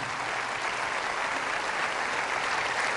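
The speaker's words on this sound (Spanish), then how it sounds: "Fuertes aplausos a Jesús" A congregation at a Catholic church service breaks into loud, sustained applause, a dense even wash of many hands clapping with no break or voice rising above it.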